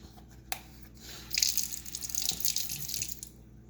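Water runs into a kitchen sink during home cookie baking, a close splashing hiss that swells in the middle and fades out, preceded by a few clinks.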